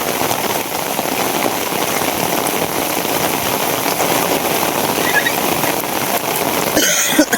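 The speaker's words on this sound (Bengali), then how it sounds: "এই এখন তো প্রচন্ড বৃষ্টি" Heavy rain pours down steadily where people have gathered to watch a football match, a loud, dense hiss of drops on surfaces that continues without pause, with a brief cough-like sound near the end.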